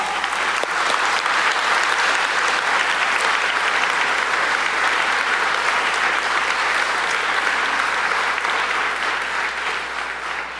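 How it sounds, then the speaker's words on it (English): An audience at the 2023 Asia Game Changer Award ceremony gives the Philadelphia Orchestra a long, dense round of applause, loud and even throughout before tapering slightly at the end. "I think they deserve a round of big applause"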